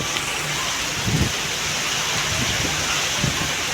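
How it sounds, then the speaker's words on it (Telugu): Heavy rain falling in Bengaluru, a dense steady hiss of downpour with a few low thumps of drops hitting nearby surfaces. "చాలా అయితే వాన వస్తుంది"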